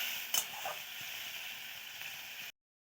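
Spice paste loosened with a little water sizzles steadily in a pan, with a few brief scraping stirs near the start; the sound is soft and continuous, then cuts off abruptly.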